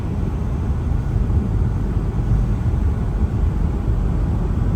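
Strong wind roars steadily against the microphone in downtown Toronto, a constant low buffeting rumble with no other clear sounds.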